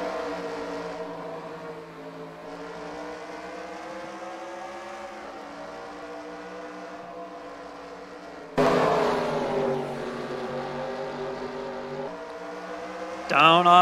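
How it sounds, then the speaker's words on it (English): Race cars in an SRX series heat race at Knoxville Raceway, a loud sustained engine drone shifting in pitch as cars pass, with an announcer talking over the racing. "We are racing with heat race number 2 of the Twitter SRX series."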